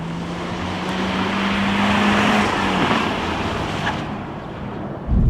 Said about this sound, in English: And we're wide open throttle.